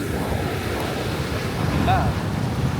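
Sea waves wash steadily onto the shore in a continuous roar with wind buffeting the microphone, and a faint voice briefly heard.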